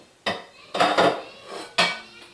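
A large oval ceramic crock pot being handled: a few sharp clinks and clunks of stoneware, close and distinct, with brief gaps between knocks.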